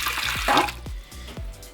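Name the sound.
water poured into a bowl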